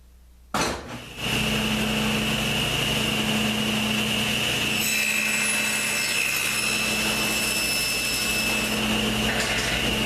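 A power saw cutting wood for a pool cue rack starts with a sharp burst, then a loud steady whining drone of the blade for several seconds, with a higher whine joining midway.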